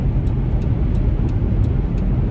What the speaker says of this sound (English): It sounds like I got a flat tire, but I don't.